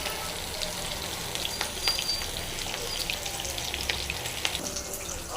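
Chicken 65 leg pieces fry in hot oil in a small pan, producing a continuous crackling sizzle with scattered pops throughout, fairly close and with no speech.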